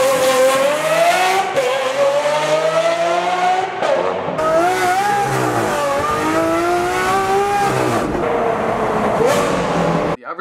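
A Lamborghini Aventador with a Powercraft exhaust roars loudly as the engine revs up and down repeatedly, a sharp, rising howl close by.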